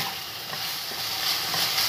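Garlic frying in cooking oil in a pan as the base for Japanese curry, a soft steady hiss and crackle with no talking.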